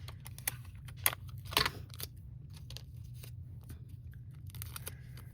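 Tape being snipped with scissors while working on an art journal page, a few sharp, close cuts and crisp rustles over a low steady hum, with one louder snip near the start and a rougher cluster shortly after.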